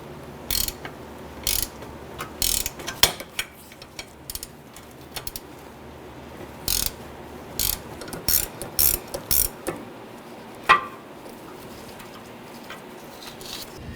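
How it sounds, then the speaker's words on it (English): Gear wrench ratcheting out rear upper control arm bolts on a 1999-2004 Jeep Grand Cherokee, heard as repeated bursts of quick metallic clicking with short pauses between runs, close and fairly loud, with no talking. "it'll be ideal if you have a gear wrench or ratchet wrench or something like that to go ahead and start zipping these out"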